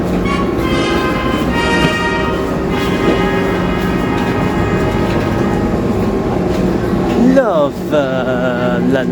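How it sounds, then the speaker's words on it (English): A train waits at Queens Road Peckham station in London, its engine humming steadily and loudly with tonal whine, then brakes or wheels squeal near the end; a voice speaks faintly underneath. "Got a minute or so before this train leaves."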